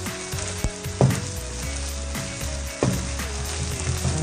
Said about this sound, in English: just keep on stirring so that our rice is not going to burn